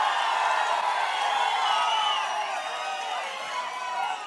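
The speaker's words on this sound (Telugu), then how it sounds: "మీరు కూడా గట్టిగా చప్పట్లు కొట్టి ఇలాంటి వాళ్ళకి" A large crowd at a Prajagalam political rally in Vemuru cheers and claps in a continuous broad roar that holds steady throughout, distant and dense.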